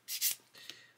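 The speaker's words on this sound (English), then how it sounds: "I've got a coarse sanding stick here, and I'm just sanding one side of" A coarse sanding stick rasps across one side of a plastic model kit sprue in two or three short, close, dry strokes, quiet and alone.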